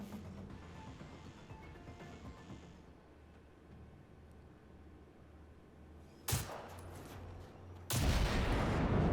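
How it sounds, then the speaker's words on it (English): Distant gunfire crackles in the video game Generation Zero, then two sudden loud blasts, a short one followed by a longer, fuller boom, break through the quieter rumble. "That was the tiniest explosion ever."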